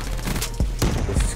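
Rapid automatic gunfire from a BMP weapon in Call of Duty: Black Ops 3, with loud bursts and sharp booming reports about every third of a second over dense, continuous game noise.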